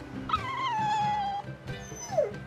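A dog whimpers in the Tales of Berseria video game, making a drawn-out falling whine followed by a shorter descending whimper. It is moderately close over a low background rumble.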